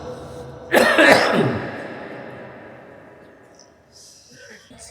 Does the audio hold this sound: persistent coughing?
yes